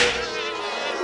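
A dense insect buzz hums steadily and close for about a second, a wavering drone of many wings with no voices.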